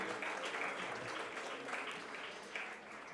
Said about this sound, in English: Big round of applause for Dr. Archana ma'am.